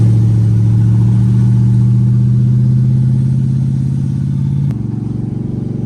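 An LS-swapped Mustang cruising at a steady 3,000 RPM, a loud, deep, continuous engine drone heard from inside the car, holding even before dropping slightly in tone near the end.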